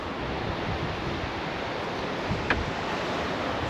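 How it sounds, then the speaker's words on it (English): Wind and ocean waves at a beach near Esperance, Western Australia, form a steady, broad roar with gusty microphone buffeting. It stays constant throughout, with a small bump near the middle. "Up, it got a bit windy."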